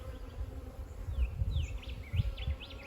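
Honey bees buzzing around an opened top bar hive during an inspection, a low, fluctuating hum close by, with faint chirping birds in the background.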